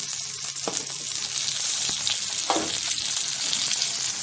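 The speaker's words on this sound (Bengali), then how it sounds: "এখানে পেঁয়াজটা ভাজা আমার হয়ে গেছে, কেটে দিয়ে রাখা আলু দিয়ে দিচ্ছি।" Potatoes tipped into a pan of already fried onions for a potato and pointed gourd sabzi set off a steady, close sizzle, with a couple of brief stirring scrapes breaking through the continuous frying hiss.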